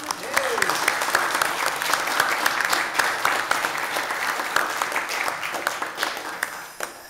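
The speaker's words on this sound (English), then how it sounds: "Can you guys all stand so we can applaud and thank you for your careers?" A church congregation applauds retired pastors, many hands clapping in a dense, sustained patter around the room that fades slightly toward the end.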